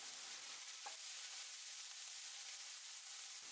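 Ginger, garlic and cashews frying in a pan for paneer peas masala while being stirred, a steady faint sizzle with a soft scrape, no voices.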